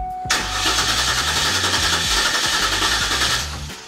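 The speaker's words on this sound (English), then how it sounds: "Car starts, dies." A Cadillac STS with its fuel relay removed cranks and fires into a loud, rough engine roar that runs for a few seconds, then fades as the engine stalls; it is heard up close with no talking.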